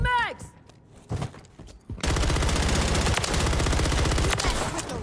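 Gunfire in the video game Call of Duty: Warzone: a sparse burst early on, then from about two seconds a loud, dense, sustained automatic-weapon fusillade with rapid regular shots to the end, mixed with talk.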